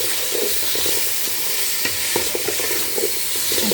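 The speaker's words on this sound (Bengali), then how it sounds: "এখন মশলাটাকে ভালো করে আমি কষিয়ে নিচ্ছি" Spices and vegetables sauté in a pan for bhuna khichuri, with a loud, continuous close-up sizzle and scattered scrapes of stirring.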